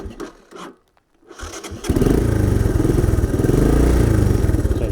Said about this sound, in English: The motor is pretty clean. It runs well. I'll start it up here.